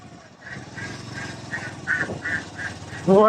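Ducks quack in a quick, steady series of nasal calls over a low background rumble, ending with a louder sound.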